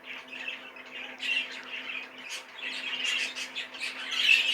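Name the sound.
young hen squawking while handled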